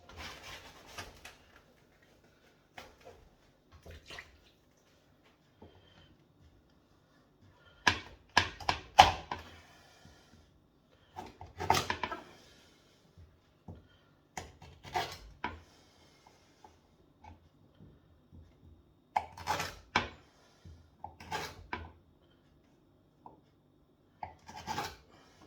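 A knife chops a foraged wild horseradish root into lumps on a board, irregular bursts of dull woody cuts and scraping separated by short pauses, close and fairly quiet.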